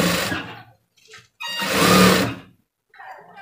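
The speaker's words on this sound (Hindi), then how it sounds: "तरह से हमें नीचे कपड़े को खींच के रखना है इस तरह से और फिर यहाँ पर इस तरह से सिलाई लगाएंगे" A domestic sewing machine runs in bursts while stitching a shirt collar, with a short run, a longer steady whirring stretch and a brief final burst, separated by silent pauses.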